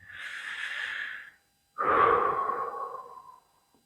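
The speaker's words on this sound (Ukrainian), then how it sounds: "робимо спокійний вдих" Two calm breaths during a breathing exercise: a smooth airy exhalation lasting over a second, a short pause, then a longer, fuller inhalation through the nose, close and quiet with no talking.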